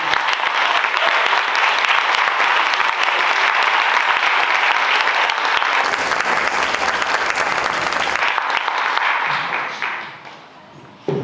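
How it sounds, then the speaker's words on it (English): An audience at a Women's History program gives a guest speaker a full round of steady, loud applause that fades out near the end. "Let's give Mr. Salam a round of applause"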